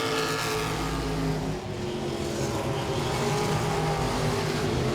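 Modified race cars racing at Langley Speedway, a continuous loud roar of engines running down the back straightaway, sustained throughout with a brief dip, no talk.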